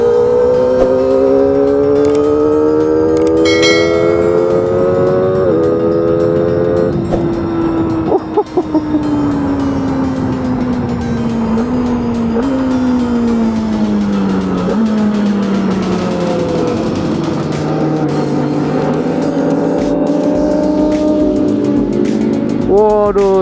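A Kawasaki ZX25R motorcycle accelerates hard along an empty road, its high-revving inline-four climbing through the gears in loud, continuous rising sweeps with brief dips at each shift, heard close from the rider's position with wind noise.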